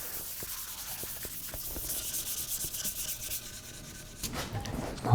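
Sandpaper rubbing over tung oil sealer on a wooden neck-through guitar neck, close and steady with short repeated strokes, then a brief pause and a rougher scrape.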